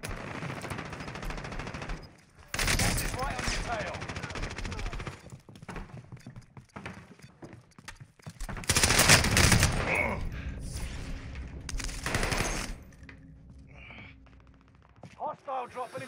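Gunfire rattles through a match of the Warzone video game in several loud bursts of rapid automatic shots, separated by quieter gaps, with a short volley near the end.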